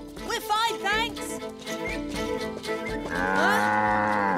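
A cartoon cow gives a long, wavering moo that grows loud and sustained toward the end, mixed in with excited voices and background music in a kids' cowboy show.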